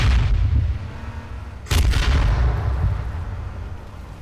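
Heavy booms from an air strike in the battle-royale game H1Z1, a loud low rumbling blast with a sharp new impact midway, continuous and close, then slowly fading.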